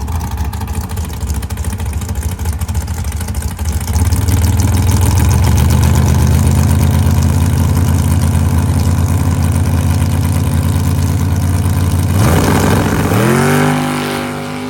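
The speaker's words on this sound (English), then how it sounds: "the truck's been running pretty decent" A truck engine idles steadily and close, with a low rumble that thickens at about four seconds, then revs briefly with a rising pitch sweep near the end.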